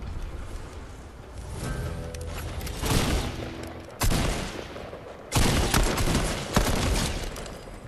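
Fortnite Battle Royale gunfire cracks out in loud, sharp bursts with ringing decay, several heavy shots landing at irregular intervals amid game noise.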